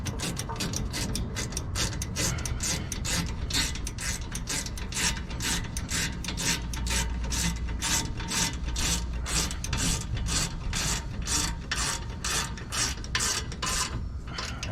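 A ratchet wrench snugging the rear brake caliper bolts on a 2012 Infiniti FX35, fast repeated clicking strokes in a steady close rhythm over about fifteen seconds, with no voices.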